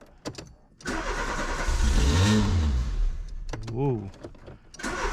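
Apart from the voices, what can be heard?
Peugeot 205 engine starting with Russian carburetor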